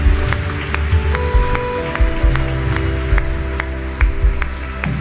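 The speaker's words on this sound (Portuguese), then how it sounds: "dá uma salva de palmas ao Senhor" Applause from a church congregation, loud and sustained across the room, with scattered sharper claps and faint background voices and ringing tones underneath.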